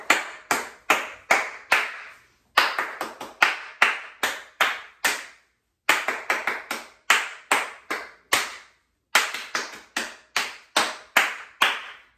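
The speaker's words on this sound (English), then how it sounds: "This time let us clap." Children clap a rhythm pattern together in a music lesson, three phrases of crisp, close hand claps in quick uneven groupings separated by short pauses, with no talking.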